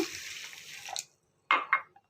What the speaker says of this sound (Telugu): ఒక కప్పున్నర అయితే వాటర్ పోసేసుకుంటున్నాను